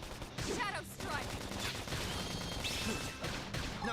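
Gunfire in the video game Xenoblade Chronicles X: Definitive Edition rattles in dense, continuous bursts and crashes through a busy battle mix, with voices speaking over the shooting.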